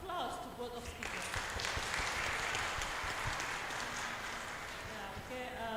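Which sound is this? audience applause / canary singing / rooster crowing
audience applause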